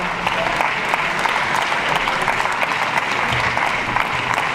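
Audience at a united-left municipal election meeting in Brest applauds steadily, a dense, sustained wash of clapping from a full room with no pauses across the stretch.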